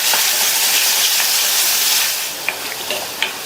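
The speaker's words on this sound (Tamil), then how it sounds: "இந்த நெல்லிக்காய் இந்த எண்ணெயிலேயே நல்லா வதங்கி வரணும்" Pieces of Indian gooseberry fry in hot oil with a bright, steady sizzle, then a few sharp crackles and pops as the frying eases, heard up close with no voices.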